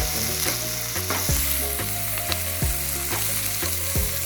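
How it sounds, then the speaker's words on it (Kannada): Tomato and chili fry in a pan with a bright continuous sizzle, while a spatula scrapes and stirs in a regular rhythm about every half second, close and clear with no talking. "ಟಮಾಟಿ ಹಾಕೊಂಡು ಎಲ್ಲ ಫ್ರೈ ಮಾಡ್ಕೊಂಡು"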